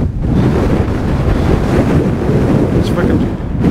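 Strong wind gusting at around 30 to 40 mph in 5-degree cold buffets the microphone in a loud, continuous roar, with a brief faint tonal whistle near the end.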